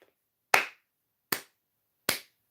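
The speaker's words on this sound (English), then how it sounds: "Let's clap." Three sharp, loud claps spaced evenly about a second apart, each ringing out briefly before silence, from someone at a live stream urging everyone to clap.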